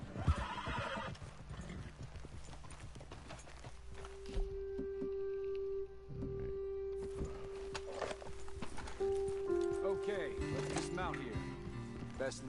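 Horses in the Red Dead Redemption 2 video game whinny and clop along with hoofbeats under a steady music bed, while characters talk over the scene at close range.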